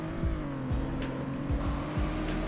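Car driven in the Roblox game Greenville, a steady engine drone whose pitch rises and then drops several times in quick succession as it shifts through the gears.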